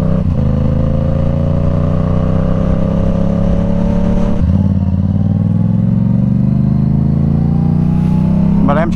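A Yamaha R7 sport motorcycle drones close and loud while being ridden, its engine tone rising steadily through each gear, with one quick shift partway through and another near the end.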